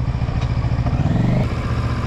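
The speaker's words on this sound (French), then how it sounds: "on va tester la moto dans les conditions un peu plus off-road" A motorcycle engine runs steadily up close, a throbbing low rumble with faint mechanical clatter and no pause.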